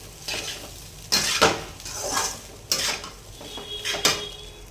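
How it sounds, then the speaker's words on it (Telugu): Chilli and salt being stirred into egg fried rice in a metal pan, with a few sharp scraping and clinking strokes of a spoon against the pan over a faint sizzle. "కొద్దిగా కారం, కొద్దిగా అంటే అదే మనం తినగలిగినంత, కొద్దిగా సాల్ట్, ఇది బాగా కలుపుకోవాలి."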